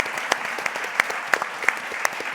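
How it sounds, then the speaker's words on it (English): A small audience claps for panelists at the close of a gender-equality panel discussion, a light patter of hands with a few sharper, louder claps standing out at regular intervals. "Please give our panelists a round of applause."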